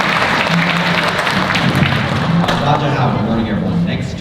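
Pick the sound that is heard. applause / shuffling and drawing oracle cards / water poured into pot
applause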